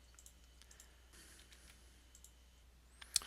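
Computer mouse clicks while working in CREO 4 CAD software: a few faint, sparse clicks over a quiet background, with one sharper, louder click near the end.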